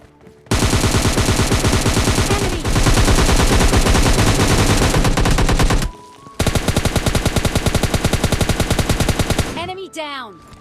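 Automatic gunfire in the mobile shooter PUBG Mobile Lite, two long rapid bursts split by a brief pause, loud and close, ending in a few scattered shots.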